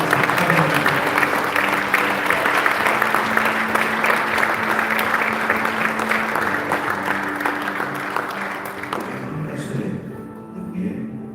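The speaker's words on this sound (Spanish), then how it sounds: "aplauda fuerte al Rey esta noche" A live congregation at a Christian revival gathering broadcast from Canada claps loudly for the King in a sustained, dense wave that slowly tapers off near the end, with a faint held tone running beneath.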